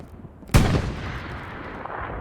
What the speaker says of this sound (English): And there goes the AT cannon.